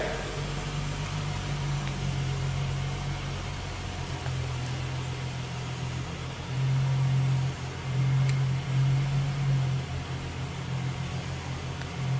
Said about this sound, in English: First, we're going to load the car onto the lift.